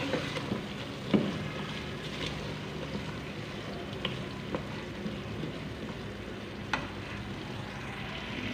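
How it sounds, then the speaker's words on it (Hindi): Chicken frying in oil in a pan for a chicken curry masala, a steady low sizzle with a few sharp clinks and stirring scrapes scattered through, no voices. "6 से 7 मिनट के लिए चिकन की अच्छे से भुनाई करेंगे"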